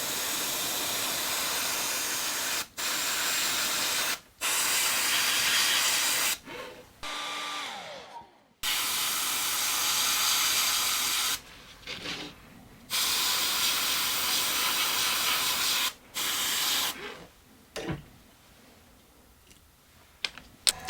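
Red paint sprays from an airbrush onto a resin swimbait lure in repeated hissing bursts, each lasting a couple of seconds and separated by brief pauses, steady and close.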